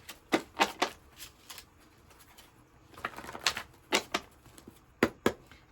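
Homemade tarot cards being shuffled in a quiet room, crisp riffling bursts arriving in short clusters with pauses between them, close and moderately loud, no voices.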